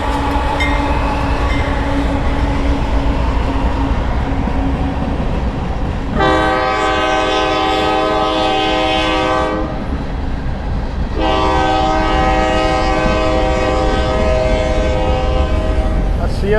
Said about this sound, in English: freight trains, occasionally an Amtrak